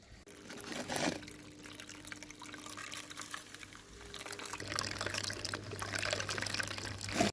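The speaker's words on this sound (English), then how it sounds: "I'm going to run it through the mini clean-up sluice first before I pan it out" Water washes mined rock material through a small clean-up sluice at an abandoned British hard-rock gold mine, a steady close trickling and pouring flow with some splashy surges and a low continuous hum underneath, no talking.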